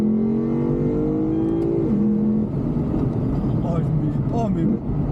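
A powerful Lexus IS-F V8 engine with a stainless exhaust revs hard nearby, its pitch sweeping upward and then dropping into a rough, throaty rumble.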